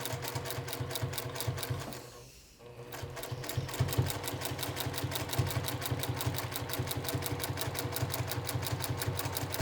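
Sewing machine stitching in the ditch along a quilt's seams, a close, steady rapid needle rhythm that pauses briefly once before resuming and running evenly to the end.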